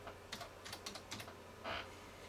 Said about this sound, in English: I'm going to go type in surge protector.